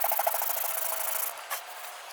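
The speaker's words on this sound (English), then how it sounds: "Sandpaper." Sandpaper rubs by hand across a teak boat deck in quick, rhythmic rasping strokes, close and fairly quiet, with no one speaking.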